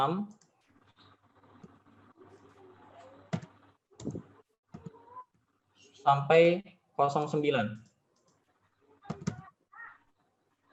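Mouse clicks on a computer running a restaurant POS program, a few sharp isolated clicks spread through the clip, with someone talking at intervals between them.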